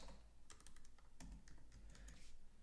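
Quick, irregular clicks of typing on a computer keyboard, faint and close with steady background hiss, no voices.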